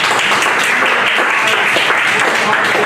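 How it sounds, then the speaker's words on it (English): A comedy show crowd claps loudly in a dense, sustained burst, close and continuous from start to finish with no gaps. "Give him a round of applause."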